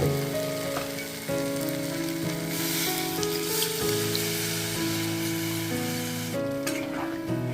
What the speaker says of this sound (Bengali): এখন আমি এর মধ্যে জল দিয়ে দিচ্ছি